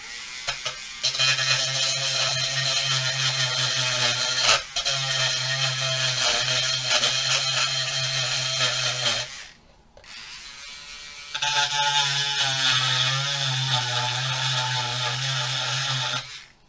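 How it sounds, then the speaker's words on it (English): A small rotary grinder bit whines steadily as it grinds material away, running in two long sustained bursts separated by a short dip near the middle, close and fairly loud. "You can take Mr. Grinder, and I've just got a small little grinder bit on the end here."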